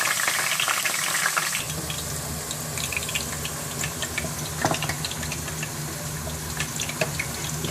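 Okra (bhindi) fries in hot oil in a pan, giving a steady close sizzle with crackles and occasional stirring clinks and no talk.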